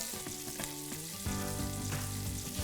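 Four tablespoons of butter hit hot bacon fat in a pot, a bright crackling sizzle that swells partway through and then keeps bubbling steadily.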